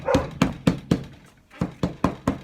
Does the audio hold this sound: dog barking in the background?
yes